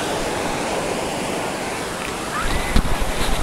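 Sea waves washing onto a shore, a continuous loud roar of surf mixed with wind buffeting the microphone, swelling slightly toward the end.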